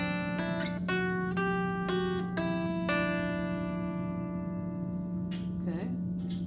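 Fingerpicked guitar passage, a short run of clearly plucked notes ringing out one after another over a steady sustained tone, then fading to quieter, scattered picking near the end.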